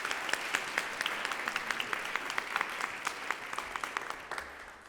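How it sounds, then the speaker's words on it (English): An audience at a fall fundraiser concert gives a round of applause, a dense, even patter of many hands clapping at moderate distance for several seconds. "Let's have a round of applause for our leadership."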